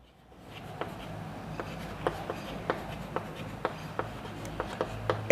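A pen writes an answer on paper during a physics lesson on capacitors, scratchy strokes with a series of crisp taps roughly every half second as characters are formed, close and clear with no voice over it.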